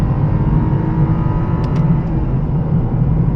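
A 2008 Lexus IS250 accelerates hard uphill, its engine a steady, loud, dense roar under road and wind noise, heard from inside the car without speech.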